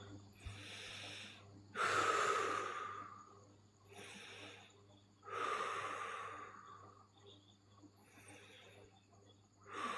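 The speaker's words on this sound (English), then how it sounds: "I need to take a few deep breaths off that one" Several deep, loud breaths taken one after another, each a long breathy whoosh with a sighing exhale, spaced a few seconds apart, close and with no talk.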